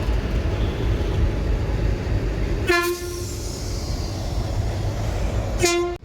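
Two loud horn blasts from the Chennai Superfast Express on the Guntur route, one around the middle and another near the end, sounding over a steady rumble of rail noise.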